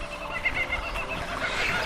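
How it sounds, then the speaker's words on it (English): Australian kookaburras and other birds calling outdoors, faint and distant, a rising chorus of bird calls under steady background ambience with no voices. "can hear the Australian kookaburras in the background for those international listeners"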